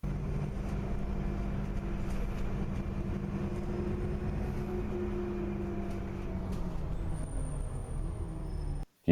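A bus engine drones steadily through its gearbox as it moves up the gears, with humming tonal lines that shift in pitch partway through, before the sound cuts off abruptly near the end.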